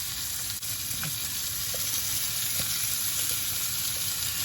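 Onions and other food simmer in a pan over lowered heat, a steady, fairly quiet sizzle with a couple of faint clicks and taps, nobody speaking.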